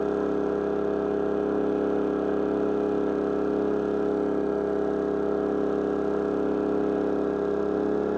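A Champion 4000 or Wen 3600 dual fuel generator runs under load at steady high RPM, a constant loud droning hum with no pauses or talk.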